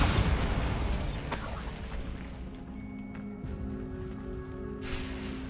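A Bombarda blasting spell goes off in Hogwarts Legacy on PlayStation 5, a loud burst that decays into a rumbling tail before a softer second pop near the end.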